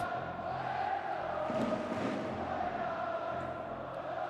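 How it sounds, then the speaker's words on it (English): Massive crowd at Suita City Football Stadium for a Gamba Osaka versus Ratchaburi FC AFC Champions League Two match, a steady distant roar of many voices holding at an even level throughout. "A massive crowd awaits at the Suita City Football Stadium."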